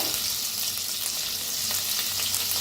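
Garlic, green chilli, ginger and coriander paste, ground in a mortar, sizzles in a pan with a steady, dense crackle that runs unbroken throughout, close and fairly loud, with no one speaking.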